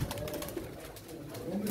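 Pigeons coo softly nearby at a pigeon auction, low throaty calls over a faint background murmur.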